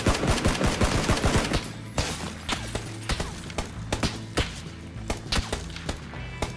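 Gunfire in the PUBG battle royale game, a dense, rapid automatic burst followed by sharp single shots spaced irregularly, loud and close.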